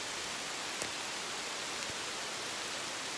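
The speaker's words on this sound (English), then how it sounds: "You can hear the raindrops" Steady rain falling among trees in Nashville, Tennessee, a dense even hiss of drops on leaves with a couple of faint individual drip ticks, no voices.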